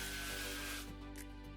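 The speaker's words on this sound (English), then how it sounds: "we're gonna spray some cooking oil into the basket" Cooking oil sprayed into a preheated air fryer basket: a steady, close hissing burst that fills the first half-second or so, then cuts off, leaving a quieter hum.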